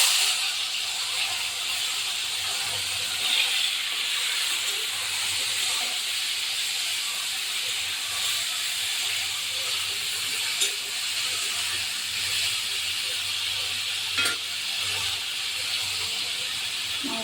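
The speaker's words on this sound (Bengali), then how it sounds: "আমি এবারে উচ্ছে আলু ভাজাটা চাপিয়ে দেবো" Bitter gourd and potato slices fry in hot mustard oil, giving a steady, even hiss and sizzle held at a constant level, with a couple of faint clicks and no speech.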